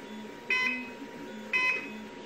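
Two short beeps from an electronic fishing bite alarm, about a second apart, sound over a quiet background hum.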